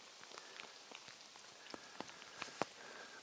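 Rain falls in a Blue Mountains rainforest as a soft, continuous patter, with scattered sharper drips striking nearby surfaces at irregular intervals.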